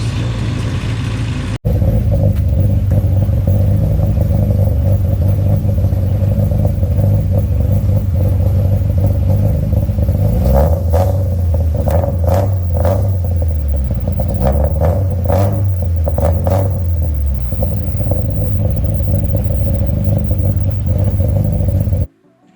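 A Honda Civic engine runs steadily after its first start, a loud continuous mid-range rumble with several quick revs rising and falling in the middle, then cutting off abruptly at the end.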